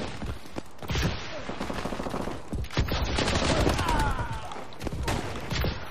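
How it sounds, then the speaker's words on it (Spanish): Gunfire rattles throughout a Call of Duty: Advanced Warfare match on the Havoc DLC Sideshow map: dense bursts of automatic fire and separate louder shots, close and continuous, with faint voices mixed in. "Hay alguien por aquí pegando tiros"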